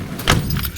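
Car keys jangle briefly beside a 1975 Chrysler Cordoba, a short metallic rattle heard close up with no talking.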